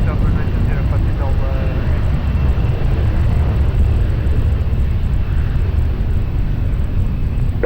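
Airplane taking off from runway 20 at Lisbon Airport, a loud, steady engine roar and rumble that holds constant throughout, with a faint radio voice underneath.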